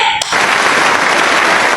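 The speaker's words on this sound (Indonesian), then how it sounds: "Boleh kita beri tepuk tangan ya?" Audience applause at a university student podcast, a dense, loud burst of clapping that starts abruptly after a brief moment and continues steadily to the end.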